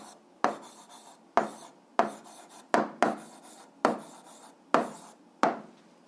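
Writing down an answer during an algebra lesson: about eight sharp, scratchy strokes in a steady rhythm, each fading quickly, close and fairly quiet with no talking.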